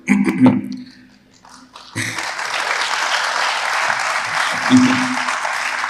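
Audience applause at a college lecture hall in Kalaburagi, a brief burst of clapping at the start, then after a pause a sustained, dense round of clapping from a large seated crowd that swells toward the end.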